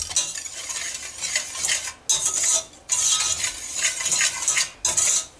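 A spoon scrapes around a bowl, mixing three dry ingredients for magnolia pudding in steady bursts with short pauses between strokes, close and fairly loud with no voices.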